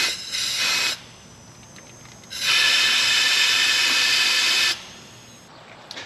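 Air hissing out through a small punctured hole in a taped bag during GTO troubleshooting, heard as a close, steady hiss in two bursts, a short one then a longer one, with quieter gaps between.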